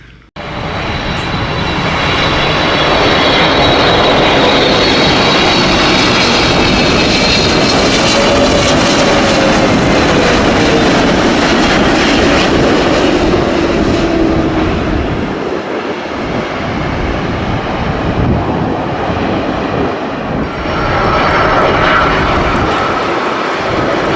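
An airplane flies at an airport, a loud, sustained engine roar that swells and holds, with broad rushing noise throughout and no speech.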